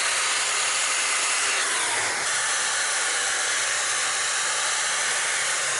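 Compressed air blasts steadily up under a truck's underside, knocking loose rust and junk, a close, continuous airy hiss with a brief surge partway through.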